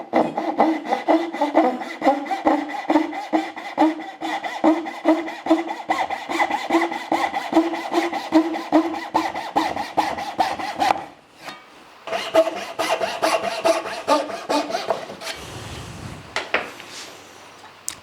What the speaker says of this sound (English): I just want to cut slots down through all these.